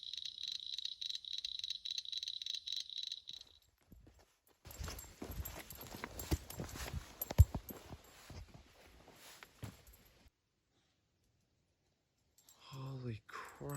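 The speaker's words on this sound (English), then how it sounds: "So those are cricket frogs" Cricket frogs calling at night in the Appalachians, a dense, rapid clicking chorus for the first few seconds, followed by loud rustling and footstep noise nearby and a short burst of talk at the end.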